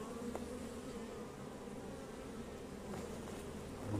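Bees buzz continuously around a queenless beehive on a Portuguese farm, a close, steady drone with faint passing tones and no talk.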